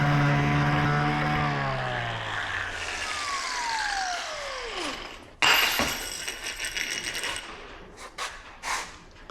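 An angle grinder cutting a groove into metal on a welding table: a loud whining tone that drops in pitch as the disc slows, then sharper scraping and clanking bursts of metal work close by.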